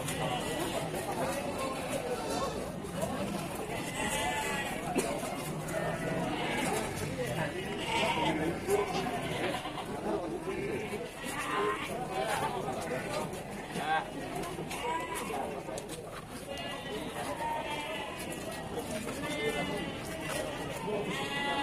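Goats bleat repeatedly at a busy livestock market amid a constant crowd murmur, with traders talking loudly over the animals throughout.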